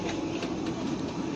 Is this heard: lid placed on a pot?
no